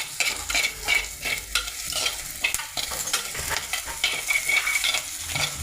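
Ginger, garlic and curry leaves sautéing in a pan for fish curry, a continuous bright crackling sizzle close up with repeated rhythmic scraping strokes of a spoon, no voices.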